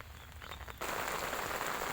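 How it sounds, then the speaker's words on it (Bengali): Soft rain patter that suddenly swells into a denser, louder downpour partway through, continuing steadily to the end. "যেরকমভাবে বৃষ্টি পড়ছে"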